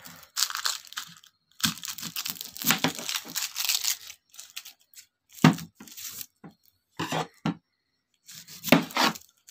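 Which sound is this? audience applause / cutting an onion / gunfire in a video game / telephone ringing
cutting an onion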